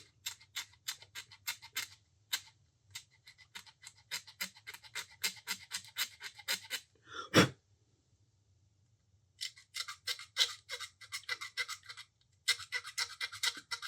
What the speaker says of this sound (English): if I over scrape this, I can always go back and patch up the paint